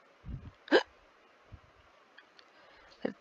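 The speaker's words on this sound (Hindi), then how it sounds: "हिचकी नहीं रुकी।" A child's hiccups come as a few short, separate gulping bursts, one sharp and fairly loud and others fainter, spaced irregularly over a quiet background.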